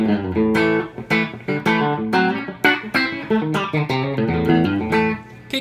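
A 1965 Telecaster electric guitar plays clean picked chords and notes through an amp via a VOX coiled cable, close and clear with a lively rhythm.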